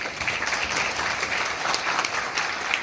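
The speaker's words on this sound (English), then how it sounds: "let's give them a round of applause" A seated audience gives a steady round of applause for a couple named Ron and Vanessa at a community meeting, dense clapping held at an even level throughout, heard alone with no talk over it.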